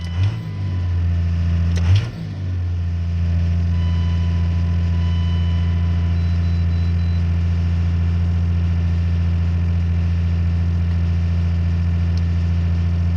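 A Cummins diesel engine with a runaway RPM fault runs fast and steady, a loud droning hum that stays constant after a brief clunk or two near the start.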